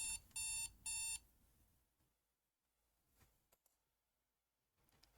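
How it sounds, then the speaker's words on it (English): Two sharp electronic alarm-clock bursts ring close and loud in Doki Doki Dollmaker, followed by faint clicks and rustling in near silence. "Lyle groaned loudly into his pillow before turning off his alarm clock."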